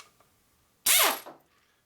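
A pneumatic cut-off zip gun bites into a screw on a custom Harley Evo chopper, a single sharp burst lasting under half a second that whines and then falls away against a quiet shop background.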